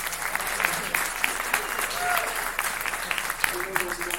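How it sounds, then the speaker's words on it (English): Applause at a public talk in Brooklyn, New York, with a crowd clapping steadily and fairly close for several seconds, sharp individual claps standing out and a voice speaking over it. "A round of applause."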